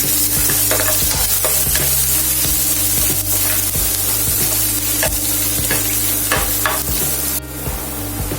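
Four or five garlic cloves fry in hot oil until brown, with a loud, constant sizzle broken by sharp clicks and scrapes of a utensil stirring the pan, while tempering for a gongura chutney.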